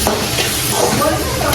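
Chicken curry is stirred in a pan over steady sizzling, with continuous scraping close up and loud.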